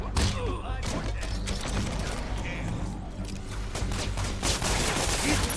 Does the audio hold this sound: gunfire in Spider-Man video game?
yes